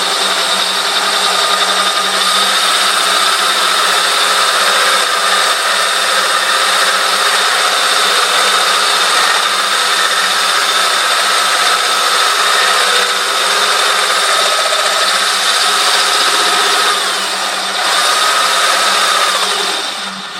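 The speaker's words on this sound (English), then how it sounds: "Let's continue drilling." A diamond drill bit grinding through quarter-inch glass, a loud steady whine with sustained high tones and a brief dip in level near the end, alone with no talk.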